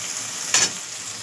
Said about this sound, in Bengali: এই যে মশলাটা এখন ভালো করে কষিয়ে নেব।